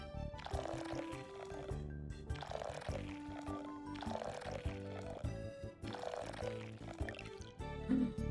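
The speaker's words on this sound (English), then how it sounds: "Ooh, I left my watering can out." A watering can pours water in the Little Known Galaxy game, a faint liquid splashing and pouring under looping background music.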